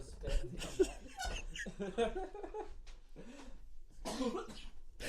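A person coughs repeatedly in a ragged fit, harsh bursts close to the microphone with breathy gasps between them.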